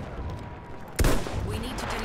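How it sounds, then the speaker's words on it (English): In Battlefield 1 gameplay, a heavy artillery blast hits about halfway through, followed by rumbling gunfire under a constant background din. "They're getting artillery strikes."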